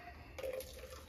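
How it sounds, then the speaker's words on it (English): A brief, faint splash and trickle of pond water being poured out of a Stihl chainsaw's fuel tank, close by, lasting about a second. "Let's dump out the gas tank"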